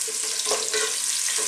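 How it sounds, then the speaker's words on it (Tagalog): Garlic and ginger sauté in oil in a cooking pot for a Filipino mussel soup. The sizzle is close and steady, with a few brief stirring scrapes and no voices. "lagay natin yung ating bawang. Sunod na rin natin yung ating luya."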